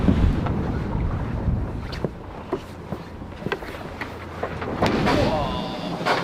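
A sailboat beating upwind in a strong breeze: heavy wind buffeting and rushing water, with thumps and splashes as the hull bounces through the chop, and a voice talking faintly underneath.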